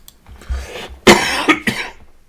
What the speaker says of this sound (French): Là, t'as bien fait de tousser.